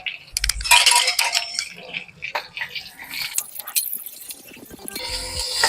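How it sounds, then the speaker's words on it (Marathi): Cumin seeds, broken green chillies and cabbage go into a hot pan for a chutney, giving a burst of sizzling and clattering utensil scrapes, loud at first and then settling into scattered clinks and crackles nearby. "आता त्यात आपण ठेवलेलं एक टेबल स्पून जिरं घालायचं मिरच्या तोडून घालायच्या आणि कोबी घालायचा"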